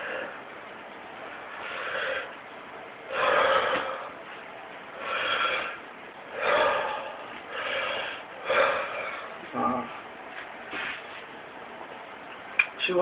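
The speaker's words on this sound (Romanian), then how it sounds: "Inspirat și expirat" Someone breathing rhythmically in and out during a martial-arts gym exercise, with about eight breathy, hissing breaths spaced roughly every second, close to the microphone and unaccompanied by talk.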